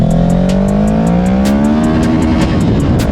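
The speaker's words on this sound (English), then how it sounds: "There's that rev limiter" A 2020 Kawasaki Ninja 650 engine winds up in a loud, close rising whine and then bounces off the rev limiter in quick, even stuttering pulses.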